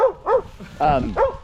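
A neighbor's dog barks four times outdoors, loud and close, in short woofs with uneven gaps, the third bark longer and more drawn out.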